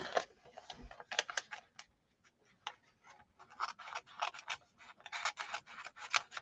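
Scissors snip and trim paper for a Christmas card, a run of quick, quiet close-up cuts and rustles in irregular bursts with brief pauses between them.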